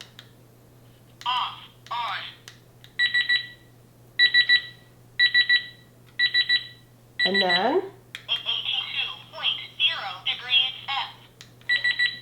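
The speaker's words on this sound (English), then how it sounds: "when I press that, we're going to hear some beeping, and it just tells us that it is trying to register the temperature" An oven's fast temperature feature beeps in quick repeated clusters of sharp, loud electronic tones while meat cooks, with a person speaking between and over some of the beeps.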